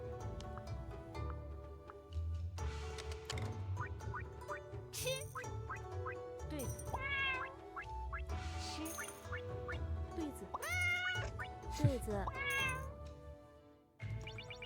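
Cartoonish cat meows from a cute cat setup in a tile-discarding game, several rising mewing calls over busy game music and chimes, no talk.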